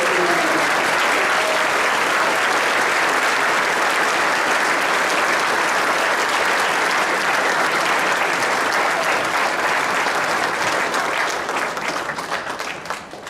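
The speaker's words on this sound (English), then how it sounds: "So let's give a round of applause to all of our veterans here." A sustained round of applause from a school assembly audience honoring veterans on Veterans Day, a dense, steady wash of clapping that holds loud for over ten seconds before beginning to thin at the end.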